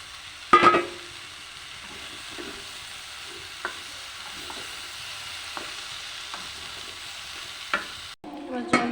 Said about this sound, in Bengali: আর ভেজে নেবো একটু ভালো করে